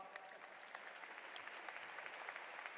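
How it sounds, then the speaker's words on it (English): Audience applause fills a hall at the 2019 Tallahassee Community College spring commencement, a steady, dense patter of many hands clapping, somewhat distant and soft, with no break across the few seconds. "Let's give the mayor another hand of applause."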